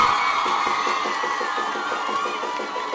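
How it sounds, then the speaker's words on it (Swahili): A crowd of schoolchildren and adults at a secondary school opening in Njiru, Kenya cheer and shout for the president, a steady, dense roar of voices with scattered claps running the whole time. "Wapi makofi ya rais? Makofi ya rais."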